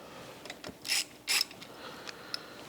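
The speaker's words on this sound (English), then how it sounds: "Where's my wrench? There it is. Socket." A ratchet socket wrench turning during an engine rebuild, with two short bright clicking bursts of ratcheting and a few faint ticks and taps nearby in a quiet space.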